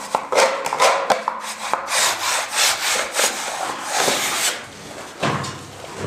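Blade trimming nonwoven paintable wallpaper (Malervlies) along the edge, guided against a scraper, gives a series of close scratchy rasping strokes in uneven bursts, with quieter pauses between them.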